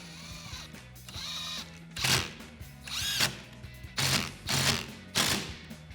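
A T25 driver tightening the motor screws on Amp Research PowerStep Xtreme running boards for a 2019-2024 RAM 1500, heard as several close, loud whirring bursts with short pauses between them.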